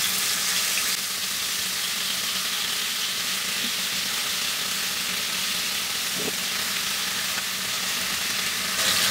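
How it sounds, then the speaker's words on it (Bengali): Chicken pieces frying in a pan over high heat give a loud, dense, steady sizzle with a constant crackling hiss throughout, close up and with no talking. "এর মধ্যে এই মুরগির পিসগুলা দিয়ে আমি ভেজে নিব। এটা খুব হাই হিটে ভাজতে হবে"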